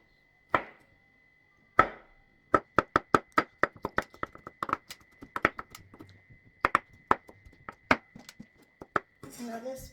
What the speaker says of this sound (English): Let's chop it up.